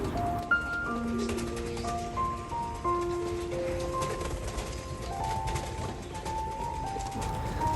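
Lahori Siraji pigeons coo in a series of soft, repeated calls, some overlapping, close by over a steady low background hum.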